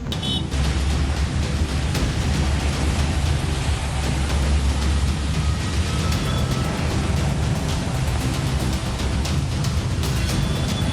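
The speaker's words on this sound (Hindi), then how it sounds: "उत्तर भारत में मानसून की पहली फुहार।" The first monsoon rain of the season pours down over Delhi NCR in northern India, a steady dense hiss of falling rain with a low rumble underneath, unchanging and with no voices throughout.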